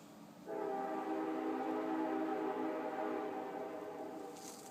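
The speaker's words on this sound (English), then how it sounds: "Here's the train that goes through Auburn." A train passes through Auburn about half a mile away near a high school, a sustained horn blast swelling in and holding, fairly distant, with a low rumble beneath and no voices.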